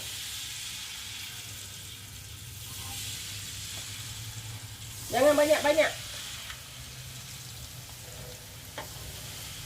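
Peanut rempeyek batter hits hot oil in a wok and sizzles in a short, fairly loud burst of frying over a quiet kitchen background, with a brief spoken remark nearby.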